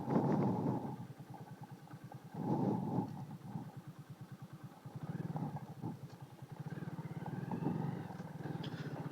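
Motorcycle engine idling and revving in uneven bursts as the bike is turned around in Sunamganj town in the late afternoon, close and fairly loud throughout.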